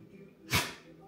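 A single short, breathy dog sneeze bursts out close by, a quick hissing snort lasting about half a second in an otherwise quiet room.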